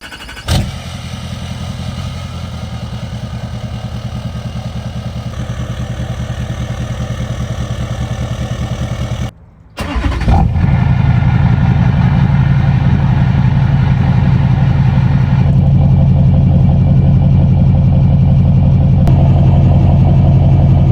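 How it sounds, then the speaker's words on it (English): A 2007 LBZ diesel pickup engine rumbles steadily at idle, cuts out briefly, then cranks back to life and settles into a louder, deep, continuous idle. "Like I said, I think idle and startup, the LBZ just sounds so nice. It's such a like a deep rumble that it has."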